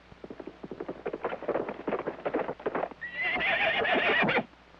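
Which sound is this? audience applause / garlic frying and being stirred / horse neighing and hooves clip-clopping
horse neighing and hooves clip-clopping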